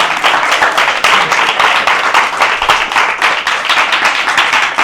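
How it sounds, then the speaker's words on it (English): An audience at a Hare Krishna religious talk claps and applauds loudly, a dense continuous patter of many hands that keeps an even intensity for about five seconds, with no voices heard. "Let's have a bigger round of applause for him."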